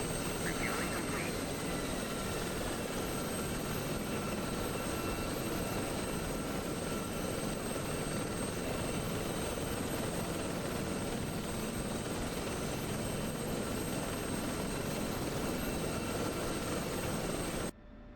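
Gazelle helicopter flying in a flight simulator game, a constant loud rotor and turbine drone that holds steady throughout, then cuts off abruptly at the very end.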